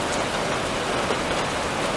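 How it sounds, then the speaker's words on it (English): Steady rain falling after a night-long downpour, a dense, even hiss of drops spread across the whole clip with no voices. "it's still raining"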